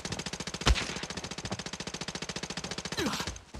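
Sustained automatic gunfire in the shooter game Arena Breakout, a rapid steady stream of shots lasting several seconds, loud and close, ending abruptly.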